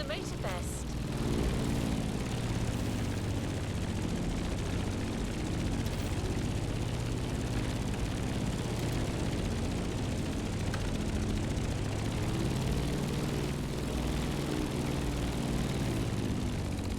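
In The Crew Motorfest video game, the radial engine and propeller of an F4U Corsair drone steadily and loudly throughout, a continuous throbbing roar with no break.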